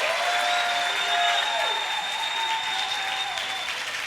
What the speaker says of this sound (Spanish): aplaude al verbo hecho carne